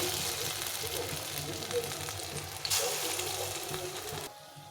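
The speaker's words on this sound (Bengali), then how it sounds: "বাকিটা ভেজে নেব এই ফুলগুলো ভেজে নেবো" Pumpkin flowers frying in hot oil, a steady crackling sizzle with a brief sharper spatter partway through, close and moderately loud, fading near the end.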